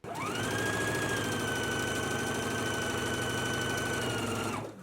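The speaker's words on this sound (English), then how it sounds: "stitch down the long edge using a 5/8 of an inch seam allowance" Sewing machine running a 5/8 inch seam down the long edge of a fabric strap: one continuous fast mechanical whir with a rapid needle rhythm, close and steady for several seconds, then stopping abruptly.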